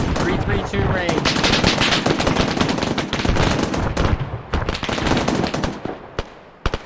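Machine gun fire during Marine platoon training on a range, loud rapid bursts of automatic shots close by, with brief shouted voices in between.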